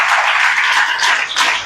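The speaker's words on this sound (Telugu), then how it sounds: "ఒకసారి గట్టిగా దేవునికి మహిమ చెల్లిస్తూ చప్పట్లు కొడతారా?" A church congregation at an Ash Wednesday service claps loudly to give glory to God, a dense, sustained wash of many hands close to the microphone that thins slightly near the end.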